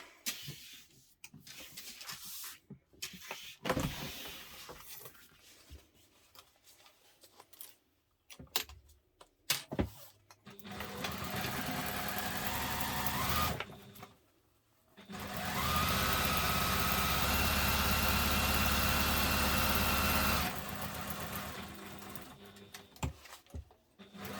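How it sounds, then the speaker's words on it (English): A sewing machine stitches a seam on a messenger bag, running in short stop-start bursts and then in two long steady runs, close and clear with no talk. "we're going to stitch along here using the seam allowance in the pattern"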